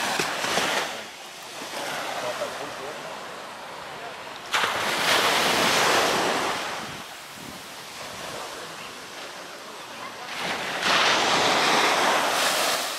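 Surf at Playa Punta Negra beach rolls in and washes out in repeated swells, with gusty wind buffeting the microphone throughout and no clear voices.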